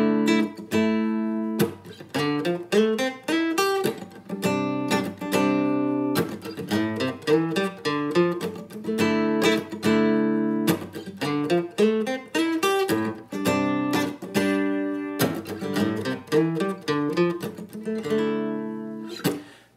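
A guitar plays a relaxed exercise in minor thirds, with clean plucked notes and double stops repeating in phrases that ring out clearly. It is close and alone, with no voices.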